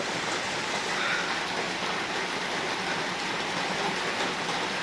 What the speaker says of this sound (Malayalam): ഭയങ്കര മഴയാണ് പെയ്തുകൊണ്ട് നിൽക്കണത്